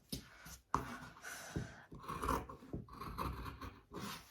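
Repeated rasping snips of scissors working through material, close by, in an uneven rhythm of short cuts with brief pauses.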